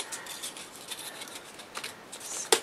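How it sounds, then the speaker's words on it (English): Scissors snipping paper hinges to size for an 8 x 8 mini album, a few close, soft crisp cuts ending with a sharper snip. "so we can cut them to size."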